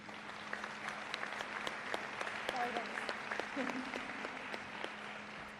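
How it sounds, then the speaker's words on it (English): Applause for parents and caregivers at a high school senior athletic awards and scholarship night, a sparse, fairly quiet scatter of claps from a room that carries on steadily for several seconds with a faint tone and murmur underneath. "So a round of applause for all the parents."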